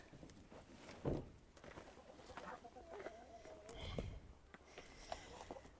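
Chickens and ducks cluck and coo close by on a village farm in winter, soft scattered calls over a busy, noisy background.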